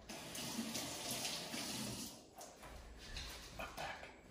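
Water runs from a kitchen tap onto hands, a continuous close splashing flow that shifts in tone as the hands move under the stream.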